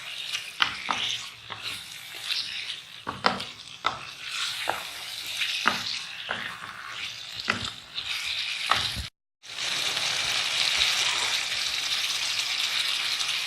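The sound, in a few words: chicken and chickpeas being fried and stirred in karahi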